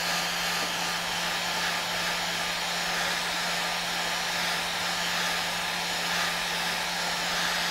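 A hair dryer blows on a watercolour still life of fruit, giving a steady, loud, unbroken whirring drone with a constant low hum throughout and no voices.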